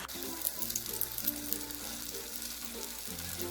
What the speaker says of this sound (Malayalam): ഇനി നമ്മൾ ഈ ഷേപ്പ് ചെയ്ത് വെച്ചിരിക്കുന്ന ഈ കൂട്ട് ഇതിലേക്ക് ഇട്ടിട്ട് ഫ്രൈ ചെയ്തെടുക്കാം